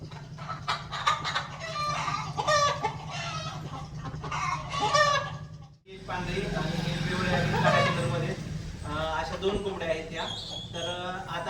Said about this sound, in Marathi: हा एक सगळ्यात मोठा कोंबडा आहे आपल्याकडचा